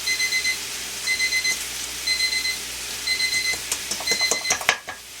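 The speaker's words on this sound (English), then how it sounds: "Timer just went off on my my squash" A kitchen timer rings while squash bakes for a casserole, sounding in repeated bursts of shrill electronic beeping that pause briefly and return. The ringing is loud and steady, with a few clattering knocks near the end.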